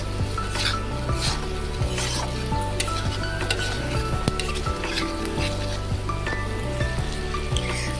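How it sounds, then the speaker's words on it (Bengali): Onion sizzles loudly and continuously in a pan, sautéing with chilli powder, turmeric and salt for a pointed gourd and egg curry, with frequent scraping stirs and light clinks of a spoon against the pan throughout. "ভালোভাবে কষিয়ে তারপর হচ্ছে ঝোল দিয়ে দেবো আর কি"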